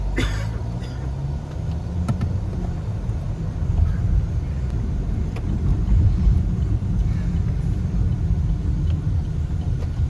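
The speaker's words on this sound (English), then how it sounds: "those are a lot of cars coming from there" Heavy traffic on Root Road makes a steady, loud rumble of many cars with no gaps between them. It builds slightly midway and has no clear single pass-by.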